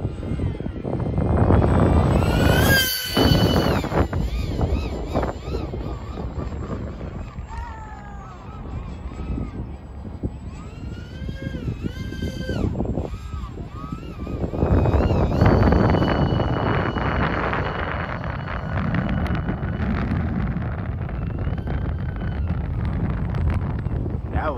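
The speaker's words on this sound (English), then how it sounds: "Really windy" Strong outdoor wind buffets the microphone with continuous loud rumbling gusts for the whole stretch, while a motor whines in and out behind it.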